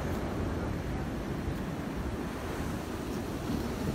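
Sea surf at Vizhinjam, Thiruvananthapuram, a steady, loud wash of waves breaking on the shore, layered with wind rumble against the microphone and no talk.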